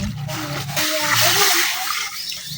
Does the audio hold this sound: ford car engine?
no